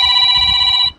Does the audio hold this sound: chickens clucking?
no